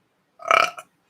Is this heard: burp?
yes